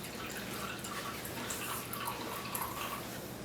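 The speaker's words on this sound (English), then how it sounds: "I'm going to fill the bottom with some water" Water poured into a glass baking dish, a steady soft splashing and trickling with small drips, close and continuous with no talk.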